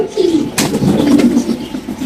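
A pigeon coos close by at a home pigeon farm, a soft throaty rolling call, with a brief rustle partway through.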